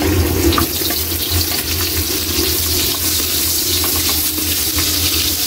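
Onions hit a hot frying pan and sizzle steadily, a loud, close, continuous hissing crackle with no talking.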